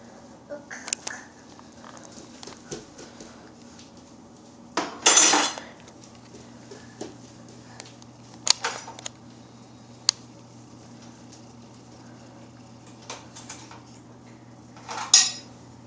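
Silverware and dishes clatter while a dishwasher is loaded, with several sharp bursts of clinking metal and ceramic spread across a quiet kitchen, plus lighter scattered ticks between them and soft voices in the background.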